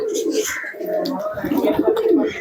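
A flock of sale pigeons keeps up a soft, burbling coo at close range, the throaty rolls rising and falling steadily beneath a bit of nearby talking.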